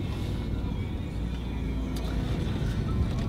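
Car lapping the Linas-Montlhéry circuit, its engine a steady, loud, continuous low rumble with road noise throughout, heard from inside the car, no speech.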